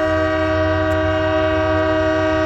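A Union Pacific freight train sounding its horn, a loud sustained multi-tone chord held for the whole stretch over a low rumble of the passing train, close by and with no talk.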